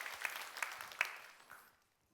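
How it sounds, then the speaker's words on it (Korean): Brief applause from a church congregation during a Sunday sermon, a scattered burst of clapping that thins out and fades to silence within about two seconds. "여러분 크게 박수 한번 해주셔요"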